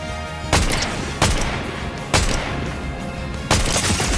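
Bursts of Fortnite video game gunfire ring out in four sharp, loud volleys spaced about a second apart, each cracking over a steady background of game ambience.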